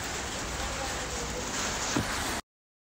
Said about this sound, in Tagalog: Inabot na ako ng ulan.